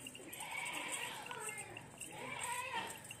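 Goats, including nannies with kids, bleat in wavering, nasal cries at moderate distance, two drawn-out calls rising over a faint background hum.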